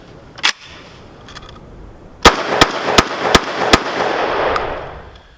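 A VEPR 12 Russian AK-pattern shotgun fed from its factory magazine fires light loads outdoors: one early shot, then five loud sharp blasts in quick succession, each ringing into a lingering echo.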